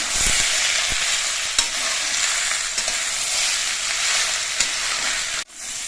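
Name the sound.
stir-frying bitter gourd leaves in a pan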